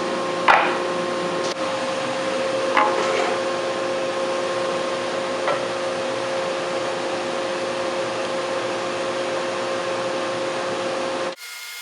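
Power saw resawing spalted lumber into guitar tops, a loud steady whine with a tonal hum running unbroken for about eleven seconds, a few brief knocks near the start, then cutting off abruptly.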